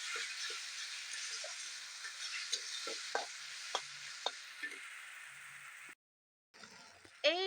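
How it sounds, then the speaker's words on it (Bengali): Spices with salt and turmeric fry in oil in a pan for chicken kosha, a steady close sizzle with scattered soft stirring ticks and clinks, a brief pause, then sharper crackling. "লবণ হলুদ দেওয়া হয়ে গেছে ভালো করে ভেজে নেব যতক্ষণ পর্যন্ত এগুলো দিয়ে তেল বেরোচ্ছে না"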